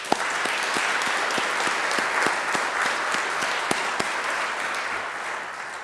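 A funeral gathering gives a sustained round of applause, with many hands clapping steadily at a moderate distance and a few sharper claps standing out.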